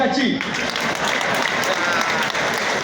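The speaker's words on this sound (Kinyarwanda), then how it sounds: "Amashyi kaki" A crowd of motorcycle taxi drivers gathered at a meeting addressed by an officer breaks into steady, dense clapping, with a voice heard briefly over it.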